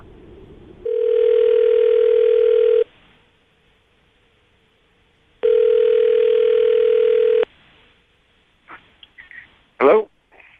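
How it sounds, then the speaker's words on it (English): Telephone ringback tone on a phone call, two long steady buzzing tones separated by silence, followed by short clicks and a brief burst of a voice answering. "I'm going to dial the phone number"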